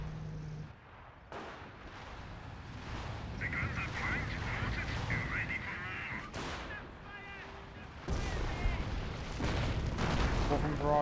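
Artillery barrage in the World War II strategy game Company of Heroes, with repeated shell blasts and rumbling explosions in a busy battle mix, heard beneath steady commentary from a caster.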